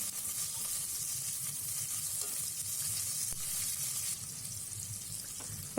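Long-sliced large onion sautéing in oil in a pan for egg biryani cooked in a pressure cooker, a steady close hiss of frying with soft stirring scrapes, no talking.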